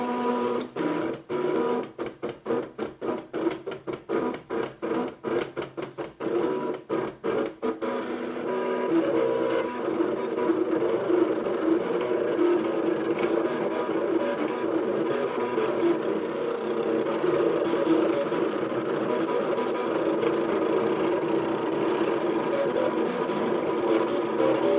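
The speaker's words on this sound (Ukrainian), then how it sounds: "Зараз машинка почне досить голосно шуміти." A Cricut Expression electronic cutting machine cuts a card, whirring and buzzing loudly up close, first in rapid start-stop bursts for several seconds, then as a long steady mechanical drone with no talking.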